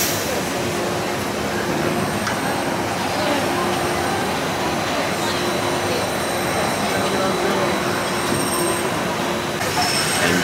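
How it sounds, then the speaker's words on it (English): The blue Disneyland monorail pulls into the station with a loud, steady rushing roar and a high electric whine that holds for the full ten seconds, heard close from the platform. "Our chariot has arrived. We get the blue monorail."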